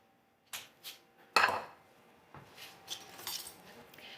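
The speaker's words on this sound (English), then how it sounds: "And just give that a good stir." Butter and chocolate cookie crumbs mixed in a bowl for a tart crust, heard as a few separate scrapes and clinks of a utensil against the bowl, with one sharper knock and then lighter scraping. Nobody speaks.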